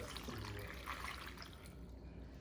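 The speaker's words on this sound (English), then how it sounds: "you pour the water all the way to the top until you see the water from the top of the bean" Water poured into a pot of red beans, a close, steady splashing gush that fades toward the end.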